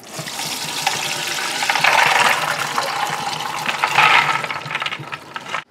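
Raw beans and water are poured into a strainer in a kitchen sink, a steady rushing gush that swells twice and then stops abruptly, close and fairly loud.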